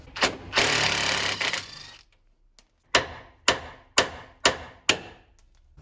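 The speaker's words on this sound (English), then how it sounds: "You can also use a fork to hammer it out like that." A long burst of spray followed by five sharp metallic hammer blows at a steady rhythm, loosening a tie rod end on a Corvette C5 with a fork tool, close and loud.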